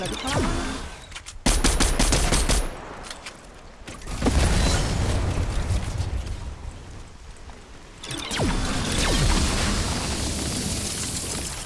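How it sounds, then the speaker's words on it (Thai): Heavy automatic gunfire in a shooting video game, coming in loud rapid bursts and fusillades separated by briefer, quieter stretches of scattered shots and rumble. "มันยิงกันอยู่มันยิงกันอยู่"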